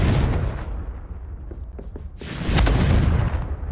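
The Confringo explosive spell in Hogwarts Legacy bursts with a loud, deep boom, then a short quieter stretch of small crackles, and a second heavy rumbling blast swells near the end, all without any voices.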